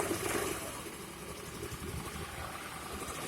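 A Hero Pleasure scooter engine idles after a kick start, a low, steady mechanical putter with a faint vibrating hum, fairly quiet and without talk.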